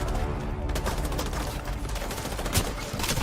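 Sustained rapid gunfire in The Division 2, dense overlapping bursts of shots close and loud, continuing without pause.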